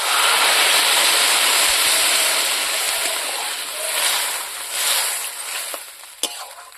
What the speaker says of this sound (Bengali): এখন আমি জল দিলাম।